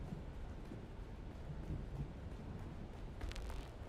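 A storm rolls across the desert in the video game Dune Awakening, with a dense low rumble of thunder and wind roaring continuously, close and heavy throughout.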